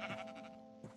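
A Minecraft sheep gives a short bleat with a wavering, nasal tone, then a second brief bleat follows a moment later, both close and clear with no talking.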